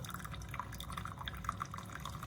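Hot water streams from a Chefman single-serve coffee maker, K-Cup and ground compatible, with a steady trickling, dripping flow heard close and moderately loud throughout.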